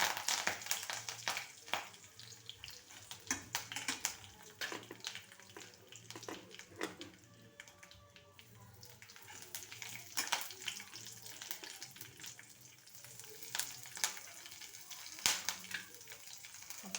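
Curry leaves frying in hot oil for coconut rice, a soft steady sizzle with scattered crackling pops and stirring scrapes, close by, with faint running water and no talk.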